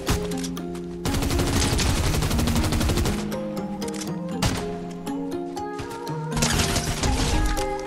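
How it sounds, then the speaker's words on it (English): Rapid automatic gunfire from several players crackles in bursts during a Fortnite Fortnitemares 2023 match, loud and close, with brief lulls between volleys. "there's so many people shooting at me"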